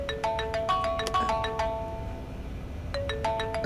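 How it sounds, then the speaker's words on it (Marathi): A phone rings in an office during a Marathi film scene, its melodic ringtone repeating as two clear bursts of bright tones with a short gap between them, with no one speaking. "बाहेर जाऊन तो फोन अटेंड करा."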